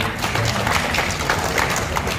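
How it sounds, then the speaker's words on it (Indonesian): Applause at an agricultural census results talk show in Gorontalo, a steady patter of many hands clapping throughout, moderately loud and close, with no talk over it. "tepuk tangan untuk itu Bapak"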